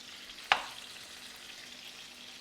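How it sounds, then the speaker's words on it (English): Chicken pieces sizzling in a pan over medium-high heat, with a steady close frying hiss and one sharp pop or clatter near the start. "I've turned my heat up to about medium high, and I'm going to season with salt and pepper, and we're going to cook this 5 to 7 minutes until it's brown."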